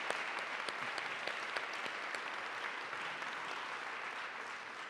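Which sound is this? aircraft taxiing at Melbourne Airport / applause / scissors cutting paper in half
applause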